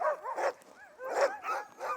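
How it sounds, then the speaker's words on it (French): Sled dogs outside a small wooden house in the snowy Canadian north bark, yip and whine excitedly in overlapping bursts, several animals at moderate distance calling in quick irregular succession. "Ils ont l'air contents les chiens."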